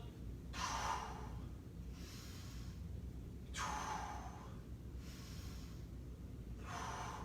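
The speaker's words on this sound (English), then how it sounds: "Let's catch our breath with a couple breaths." Heavy breathing while catching breath during a total body conditioning workout: slow, even cycles of audible inhales and exhales, about four or five over several seconds, fairly close and soft against low background hiss.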